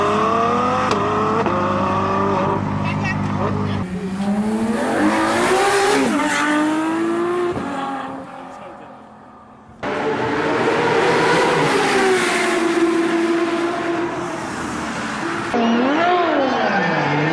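A 6.3-liter V12 sports car with 770 horsepower revs hard and loud, climbing and dropping through sharp rises in pitch with tire squeal, fading briefly before roaring back.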